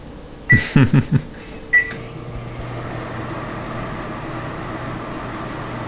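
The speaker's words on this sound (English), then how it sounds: "Whirlpool microwave." A steady low hum of a Whirlpool microwave oven running, broken early on by a few short clustered tones and clicks, then continuing evenly on its own.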